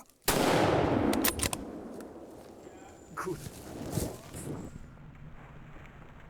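Rifle shot during a wild boar hunt in a cold forest: one sharp loud crack near the start, followed by fainter rustling, movement and a few lighter knocks, with wind noise.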